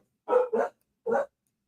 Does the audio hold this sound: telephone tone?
no